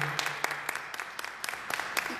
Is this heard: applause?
yes